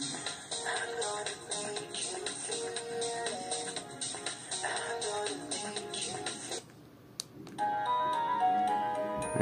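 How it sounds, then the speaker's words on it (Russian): Built-in polyphonic ringtones of a Sony Ericsson K750i phone play one after another, bright synthesized melodies with steady beats, a brief pause near the end before a different tune starts, no talking. "Такие вот встроенные рингтоны."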